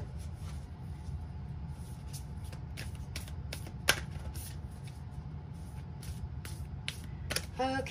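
A deck of tarot cards is tapped and squared on a surface, making soft, close shuffling rustles and a few sharper taps over a steady background hum.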